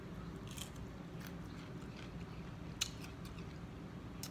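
Crisp bites and wet chewing of a cucumber at a mukbang, a few sharp crunches standing out over steady close-up mouth sounds, quiet and near with no talking.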